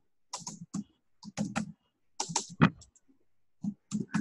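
Close typing on a computer keyboard, with irregular clusters of crisp key clicks separated by brief pauses.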